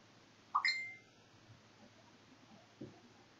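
Phone notification chime cutting through a quiet farming game: a single short, bright beep with a brief ringing tail, clear and near, followed by faint low background noise.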